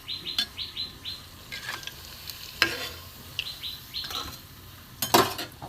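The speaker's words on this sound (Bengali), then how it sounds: "এবার আমি তেলে ভাজবো" Komola bhog sweets deep frying in hot oil, a steady crackling sizzle with occasional stirring clatter and sharper spits, while birds chirp repeatedly in the background.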